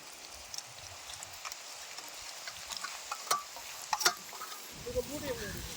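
Ginger garlic paste sautés in hot oil in a pan for a Kerala-style kappa biryani, a faint, steady sizzle with light scraping and stirring clicks now and then, growing busier near the end.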